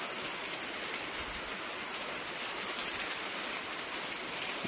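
Heavy rain pouring steadily at night in Jim Corbett National Park, a constant dense hiss with no pauses and no voices.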